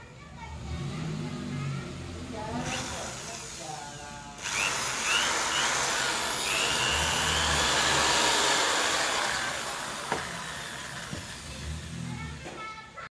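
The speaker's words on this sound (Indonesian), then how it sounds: "Bor aja supaya cepat." A power drill bores a hole for a homemade 27–28 MHz dipole antenna, its broad whirring roar running steady for several seconds in the middle, with talk before and after it.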